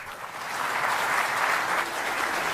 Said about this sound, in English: let's bid them adieu with a huge round of applause